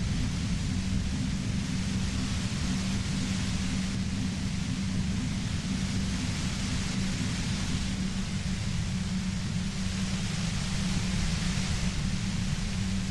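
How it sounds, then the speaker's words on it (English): A steady, unbroken hiss of white noise from the game Disco Elysium, a broad static rush with a low rumbling undertone, constant and even in level throughout. "You hear through the white noise."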